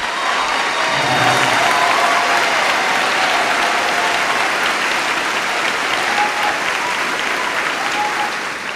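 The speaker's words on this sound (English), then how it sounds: "Join me in congratulating these graduates by giving them a round of applause." An audience at a high school graduation ceremony applauds summa cum laude graduates, a sustained, dense, even clapping that fills the hall for several seconds before tapering slightly.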